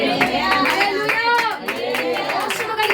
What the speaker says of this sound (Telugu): రోషము కలిగి చప్పట్లు కొడదామా?